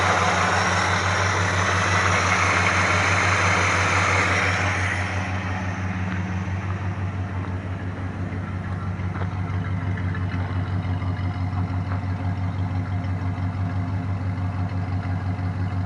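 A 1962 Plymouth Belvedere engine idles on a cold day, a steady, smooth low rumble with a constant hum, close and even, easing slightly in loudness partway through.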